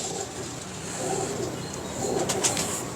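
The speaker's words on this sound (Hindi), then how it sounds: "Low ji, top of the line, कमाल का कबूतर आ गया।" A champion pigeon at the Nishtar loft in Lahore coos softly in low, murmuring pulses over a steady hiss of background noise, with no voices present.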